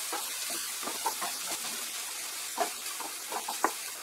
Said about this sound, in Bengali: মিডিয়াম আঁচে এটাকে ফ্রাই করে নিচ্ছি